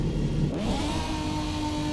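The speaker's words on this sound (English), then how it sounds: "You can raise the revs" The Beamer V12 engine of a prototype racing car in a driving sim revs with the clutch in, its pitch climbing steadily over two seconds into a sustained high drone.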